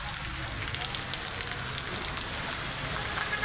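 Steady rain falls over the town of Irecê in Bahia, a dense, even hiss of drops on surfaces that holds at the same loudness throughout, with no voices.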